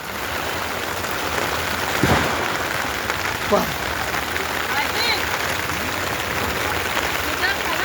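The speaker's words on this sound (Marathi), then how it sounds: "पाऊस जाम गळायला आहे मित्रो" Steady heavy rain hisses and patters close by at night, dense and continuous, with a couple of brief knocks and faint talk beneath; water leaks through onto food and belongings.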